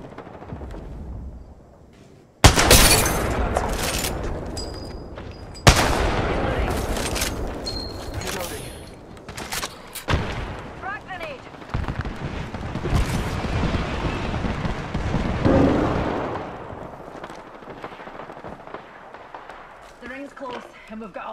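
Gunfire in the video game Apex Legends cracks out in sharp bursts and rattling volleys amid explosions, loud and close at first, then trailing into scattered shots, with voices talking over parts of it.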